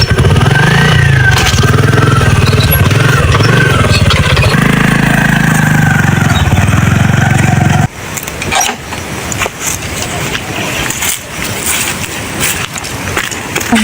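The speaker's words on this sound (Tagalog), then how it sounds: "Saglit lang, ipapark ko muna yung motor ko." A parked motorcycle's engine idles with a loud, steady low rumble for about eight seconds at a scenic roadside spot near a bridge, then cuts off abruptly into quieter, shifting outdoor ambience.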